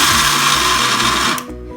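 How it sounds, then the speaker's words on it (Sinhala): A kitchen blender grinds soaked lentils with chilli and pepper, a loud, close whirring motor that runs steadily and then cuts off, with the whine fading into quiet. "එහෙනම් අපි බ්ලෙන්ඩ් කරගමු."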